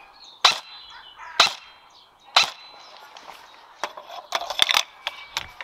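An unsuppressed SR-25 AEG airsoft rifle fires three sharp, spaced cracks, followed by a quicker cluster of snapping shots and mechanical clicks, close by.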